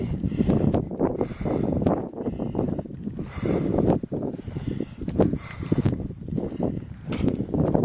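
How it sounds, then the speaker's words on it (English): Loud, gusty wind buffeting the microphone in continuous rough bursts while rockhounding outdoors in New Mexico, with no other clear sounds. "Again, sorry about the wind."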